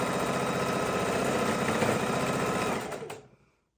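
Sewing machine stitching quilt seams while piecing a quilt: a loud, steady rapid whir of the needle mechanism runs continuously for about three seconds, then winds down and stops, with no talking.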